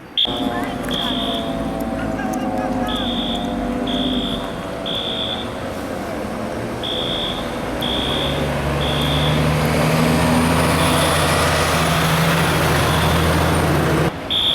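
Fire trucks pull up outside a thrift store with a rumbling engine and traffic noise, while a building alarm beeps in repeated short bursts throughout. People can be heard talking nearby.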